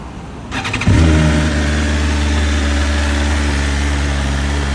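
A stock-exhaust BMW S1000RR motorcycle cold-starts with a brief starter whir, then its engine catches and settles into a loud, steady, high idle close by.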